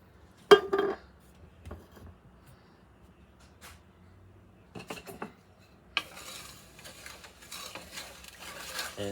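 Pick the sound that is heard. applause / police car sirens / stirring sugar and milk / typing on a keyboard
stirring sugar and milk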